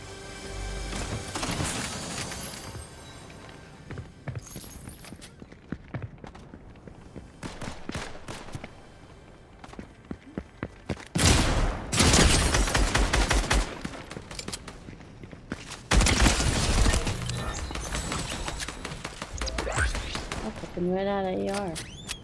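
Gunfire in the video game Fortnite, with dense bursts of automatic fire and sharp single shots, including assault rifle and shotgun, loud and near, while players talk over much of it.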